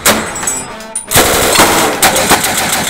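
Belt-fed machine gun firing at an outdoor gun range, loud rapid bursts of automatic fire with a short pause before a sustained string of shots, close and dominant.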